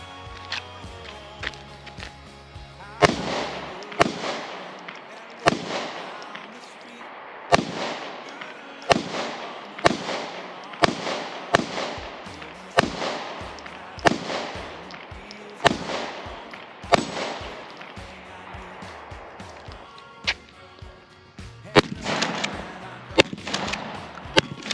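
Sharp shots from a Remington pump-action rifle aimed at metal targets ring out at a steady pace, about a dozen loud cracks spaced a second or two apart with pump-action clatter between them.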